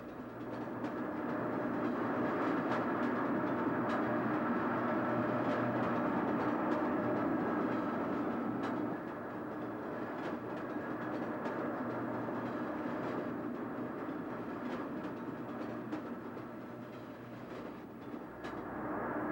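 A Pennsylvania Railroad GG1 electric locomotive rumbles steadily past alongside 4850, a broad continuous roar of motors and wheels with faint rail clatter that dips slightly midway and holds loud throughout.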